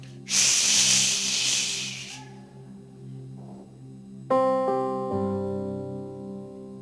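A voice imitates a hot kettle with a long sharp hiss, followed by sustained tonal humming.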